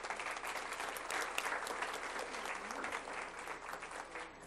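A round of applause at a school board meeting ceremony honouring a school: dense, even clapping from a seated audience that holds steady for several seconds, moderately distant, with no speech.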